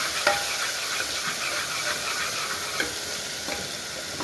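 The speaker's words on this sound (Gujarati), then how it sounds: "આપણું તેલ ગરમ થઈ ગયું છે। હવે એમાં નાખશું જીરું, આ લસણ જે આપણે ખાંડી લીધું હતું" Cumin seeds and pounded garlic sizzling in hot oil for a cluster bean and potato sabji, a steady crackling hiss with a few soft stirring knocks against the pan.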